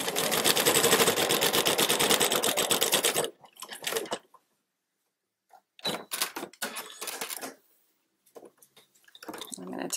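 Sewing machine stitching binding onto a quilt, a steady fast whirring run for about three seconds, then short slower bursts of stitching separated by pauses, close and clear.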